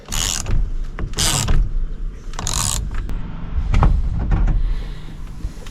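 A steering wheel puller working on an old Squarebody truck's steering wheel, giving several short mechanical cranking and scraping bursts with pauses between, close by.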